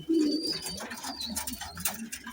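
A pigeon coos in a few soft, low throaty notes amid faint chirps and background sounds, fairly close and heard alone without speech.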